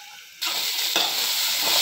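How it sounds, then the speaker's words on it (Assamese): Broiler chicken meat cooks in water in an old pot, a loud, close, hissing bubble that suddenly swells after a quiet start and then keeps up a steady sizzling, spattering roar. "পানীখিনি আৰু মাংস উতলি আছে"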